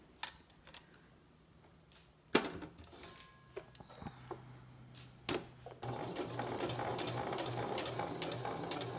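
A sewing machine stitches fabric for a face mask, starting with scattered clicks and short bursts, then running into a steady, close whirring stitch over the final few seconds.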